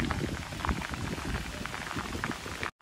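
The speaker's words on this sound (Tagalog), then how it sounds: "Okay, so malakas na ulan dito sa" Heavy rain pours down while travelling near Coron, a dense, steady patter and hiss close by with scattered louder drops, running unbroken without speech before cutting off abruptly.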